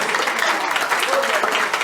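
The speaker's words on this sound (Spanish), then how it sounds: "Para Cristo son los aplausos para el amado Espíritu Santo." Dense, continuous applause fills a church service, with the congregation clapping steadily and voices mixed into the crowd sound.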